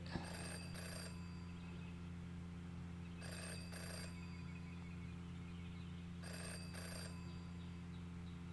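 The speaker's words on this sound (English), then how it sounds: "Jenny had learned never to ignore a ringing phone" An old-style telephone bell in the video game Jenny LeClue rings in three evenly spaced double bursts over a low, steady hum.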